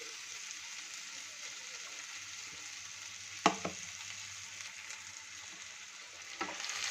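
Drained moong dal dropped into a frying tomato masala, a close, steady sizzle broken by a sharp clatter of the addition and later a couple of stirring scrapes.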